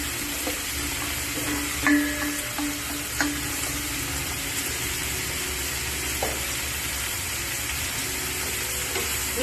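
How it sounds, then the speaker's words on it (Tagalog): Marinated eggplant sizzling and frying in a pan over low-medium heat, a steady hiss running throughout with a few brief stirring clinks, no talking. "After 2 to 3 minutes, let's add the marinated eggplant."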